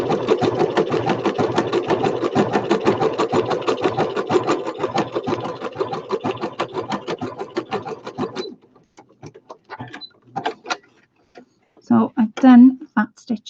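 A sewing machine stitches a sewing machine cover with rapid, rhythmic ticking for about eight seconds, then goes quiet apart from scattered handling noises and a voice speaking near the end.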